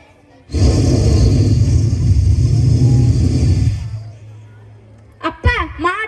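A mimic imitates an airplane flying overhead with a loud, steady, breathy rushing drone that holds for about three and a half seconds, then fades into quieter, brief voiced sounds.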